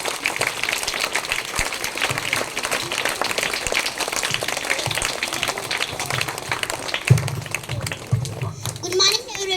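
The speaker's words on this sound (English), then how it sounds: "Welcome them with your huge round of applause." Applause from a school audience at a Teachers Day tribute welcoming young students, steady broadband clapping mixed with children's voices and chatter throughout, with some louder bursts near the end.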